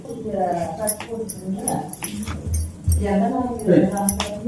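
A dog at a family home whimpers and gives short yips close by, whiny cries rising and falling across several seconds while a person talks over them.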